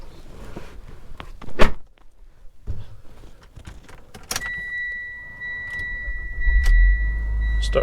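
Near the end, a 2015 Mitsubishi Evolution X MR's engine starts up and settles into a low idle, after faint interior rustles, clicks and a chime tone inside the car.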